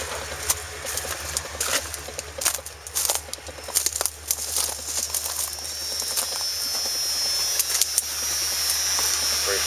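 A 5.2-litre CNG engine in a damaged Dodge 3500 van idles steadily, a continuous hissing, whooshing drone with some rattly clatter on top, running on its own throughout.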